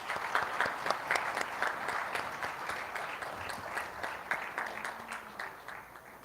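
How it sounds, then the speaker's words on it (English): Audience applause at the inaugural session of a corporate summit, steady dense clapping filling the hall for about six seconds with no voices over it. "Huge round of applause, please."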